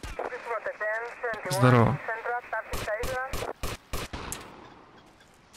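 Gunfire from an enemy shooting in GTA Vice City: a string of sharp, loud shots in an irregular burst, mixed with in-game voices and a brief spoken greeting.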